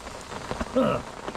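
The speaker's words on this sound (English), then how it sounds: "it's raining" Steady rain patters on a surface outdoors during an autumn carp fishing session at a fishery, a continuous soft hiss of drops throughout with a brief tonal sound partway through.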